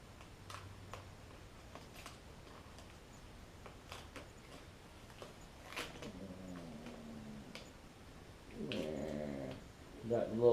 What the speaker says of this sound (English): Got the little doggies moaning over there in the corner.